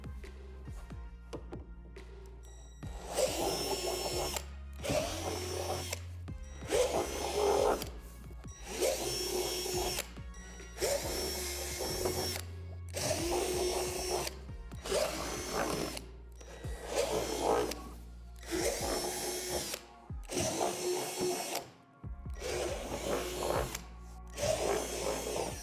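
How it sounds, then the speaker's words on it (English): A power drill fitted with a 3/8 bit drills out divots in the corners of tan plastic playset panels, firing in repeated short whirring bursts with brief gaps and clicks, close by and without speech. "Drill out the divots in each corner of the tan panels with a 3/8 drill bit."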